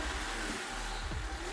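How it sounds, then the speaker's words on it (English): A car engine cranks and starts during a common rail diesel fuel pressure test, with a steady low rumble throughout and a brief rising sweep near the end as it catches. "Now start the engine."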